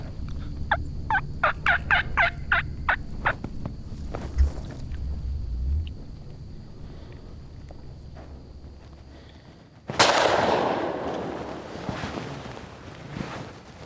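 Osceola wild turkeys gobble on a ranch during a hunt, a rapid burst of repeated gobbles in the open, followed by a quiet stretch and then a loud, broad noisy rush near the end.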